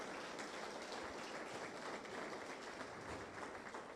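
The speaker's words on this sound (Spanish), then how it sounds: "Dele un fuerte aplauso al Señor Jesucristo" A church congregation applauding during a sermon, a steady, fairly faint wash of many hands clapping continuously with no distinct individual claps.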